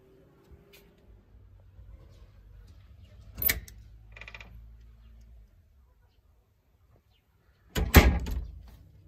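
A sliding weather shutter on an old Japanese kominka house rolls and knocks, with two loud clattering impacts separated by quieter rumbling and ticking.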